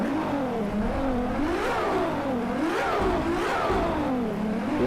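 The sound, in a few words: LaFerrari engine revving in Driveclub video game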